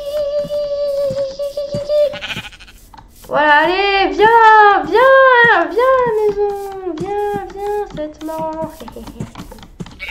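Sheep bleating in Minecraft survival mode, several long wavering baas in a row, loud and close, while a person talks over and between them.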